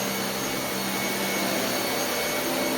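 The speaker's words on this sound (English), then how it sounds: "this general type of brush roll, you know, one with real bristles on it, where you can really hear the agitation" Steady, loud whirring roar of a Dyson Cinetic Big Ball UP14 vacuum with a real-bristle brush roll churning against carpet, continuous and close with no voices.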